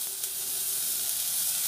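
A steady, bright sizzle of butter frying in a hot pan while cooking kadai paneer, close and continuous with no voices.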